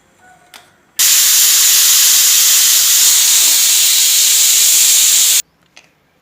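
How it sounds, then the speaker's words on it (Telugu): A pressure cooker whistle: a loud, continuous high-pitched hiss of escaping steam bursts out abruptly, holds steady for several seconds, then cuts off sharply while dal cooks. "ఫైవ్ ఆర్ సిక్స్ విజిల్స్ వచ్చే వరకు ఉంచుకొని ఆఫ్ చేసుకోవాలి"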